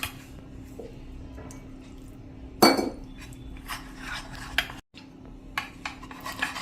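A spoon stirs maida flour and water into a slurry in a bowl, with light scraping and clinks, a sharper clatter midway, and a brief pause near the end.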